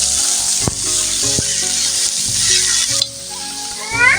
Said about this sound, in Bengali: শাকগুলো এখন দিয়ে দিচ্ছি। নেড়ে চেড়ে মিশিয়ে নেব।